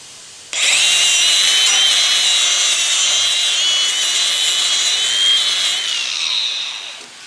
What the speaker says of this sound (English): Well, we'll buff this off.